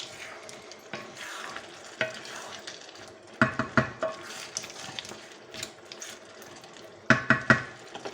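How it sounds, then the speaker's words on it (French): Paella with mussels is stirred in a frying pan, its soft sizzle punctuated by scraping spoon strokes and clustered clacks of the shells knocking together. "je remue"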